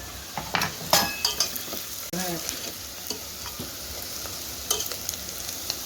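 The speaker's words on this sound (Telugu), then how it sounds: "అన్నీ పచ్చి మసాలాలు కాబట్టి నూనెలోనే వేపుకుంటే మంచిగా ఉంటుంది అన్నమాట." Raw whole spices sizzle and fry in hot oil in a home kitchen pan while preparing sambar-style dal rasam, with intermittent stirring clinks of a utensil against the pan over a steady crackle; no talking.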